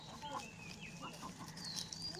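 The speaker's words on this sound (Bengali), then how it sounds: "তারপরে এই যে আমার মুরগি, এই যে আমার মোরগ।" Backyard chickens and a rooster on a rural Bangladeshi homestead, heard as scattered clucks and short calls at moderate distance over steady outdoor background noise.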